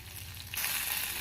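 Onions sauté in a pan for onion chutney, a steady close sizzle that brightens and grows louder partway through, with no talking.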